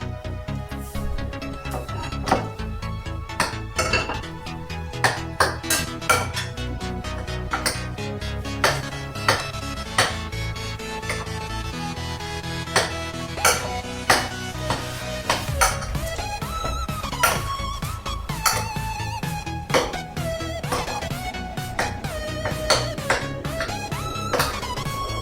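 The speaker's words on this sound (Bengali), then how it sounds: "এবারে আমি ভালো করে মিক্সড করে নেবো" Spiced banana flower kabab mixture, with turmeric, jaggery powder and roasted spice, worked by hand in a metal bowl, with steady soft scraping and repeated clinks against the bowl, close and alone under quiet background music.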